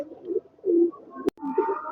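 Kaldam pigeons coo in soft, low, rolling phrases close by, with a brief sharp click in the middle and a short higher call near the end.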